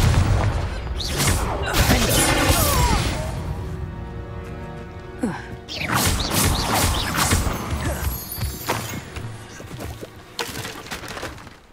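Confringo spell explosions in Hogwarts Legacy on PS5: loud, booming blasts with crackling, shattering debris, in a dense series of hits separated by a brief lull, close and forceful.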